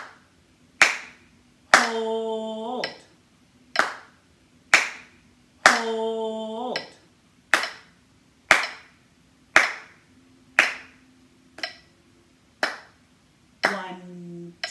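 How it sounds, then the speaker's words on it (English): Hands clap out the rhythm of the first line of the children's tune "Lightly Row", giving crisp, close claps in a steady pattern over a soft metronome click, with a few short spoken words between them. "Let's go over the first line in lightly row, and we will clap out the rhythm"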